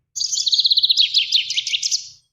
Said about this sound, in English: It's a finch.